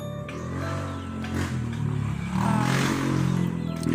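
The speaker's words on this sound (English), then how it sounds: "I have a motor background in my video. because we live beside the highway" Highway traffic beside a home gives a steady motor rumble in the background, swelling as a vehicle passes near the middle before settling again.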